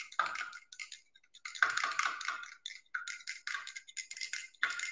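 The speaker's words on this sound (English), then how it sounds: "I'm just going to keep stirring" Copper oxide being stirred into acid in a glass beaker, a series of light glassy clinks and scraping strokes in irregular bursts, close and fairly quiet, with brief pauses between.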